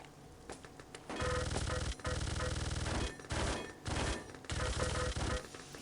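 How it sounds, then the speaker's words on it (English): An MG42 machine gun in a competitive video game match, loud sustained bursts of rapid fire broken by short pauses, repeating several times at close range. "And he explores right into the MG42 of Mesh."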